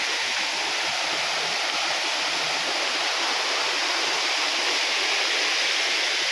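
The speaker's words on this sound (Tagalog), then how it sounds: "Ayan, may maliit na falls." A continuous, loud rush of falling water, a dense steady roar with no pauses, close by.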